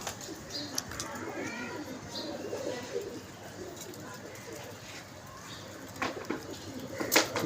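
Pigeons at a pigeon club coo softly and repeatedly in the background, with occasional wing flutters and clicks, while someone talks over them.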